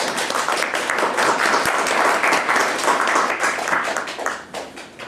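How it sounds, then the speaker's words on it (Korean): Steady applause from an audience at a company information-sharing assembly as a representative is welcomed to the stage, dense and sustained, then thinning slightly near the end. "박수 부탁드리겠습니다."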